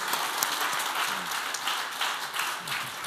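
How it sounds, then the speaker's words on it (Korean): A congregation at a men's mission prayer meeting applauds in thanks to missionaries, a dense, sustained wash of many hands clapping at once with no voices over it. "우리 선교사님께 다시 한번 감사의 박수 드리겠습니다."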